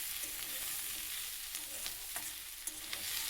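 Four green chillies frying in a little oil, a soft continuous sizzle with occasional spatula scrapes and taps against the pan, fairly quiet and close.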